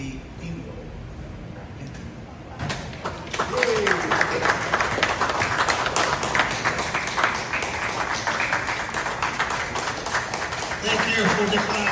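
Dinner guests at a Knights of Columbus Southern California past chapter presidents dinner break into applause, a dense sustained round of clapping that swells after a quieter start and continues for several seconds.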